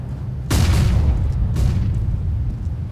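Grenade explosion in Counter-Strike: Global Offensive video game, a loud close boom with a second blast about a second later, each trailing into a low rumbling decay.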